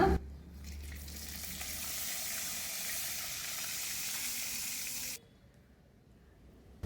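Fennel, cloves, cinnamon and cardamom crackle in hot oil as a smooth, even hiss that holds for about five seconds, then drops abruptly to quiet.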